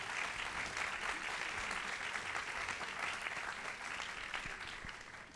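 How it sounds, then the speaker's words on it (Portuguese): A festival panel audience gives a steady round of applause for two women writers, dense even clapping that stays level throughout and fades slightly at the end. "Eu queria pedir uma salva de palmas para as duas."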